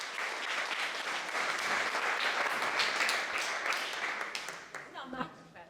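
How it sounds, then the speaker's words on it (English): A live audience gives a round of applause for a volunteer coming up at a talk, with sustained, dense clapping that fades out toward the end. A presenter's voice can be heard faintly over it as the clapping dies down. "Give Meg a round of applause"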